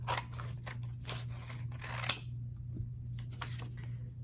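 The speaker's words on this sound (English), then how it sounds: "with the same sheet of paper that I just cut that off of, I am going to cut another third right here" Scissors snip through a sheet of paper in a run of crisp, close cuts, then a sharp single clip, followed by a few softer snips near the end. Quiet background hum, no voices.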